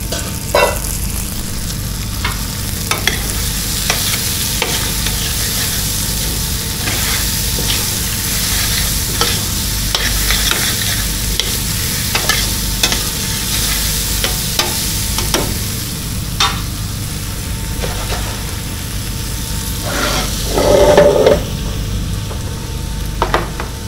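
Peppers fry in a pan in a ship's galley while being stirred, a steady dense sizzle with scraping stir strokes throughout and a louder burst near the end.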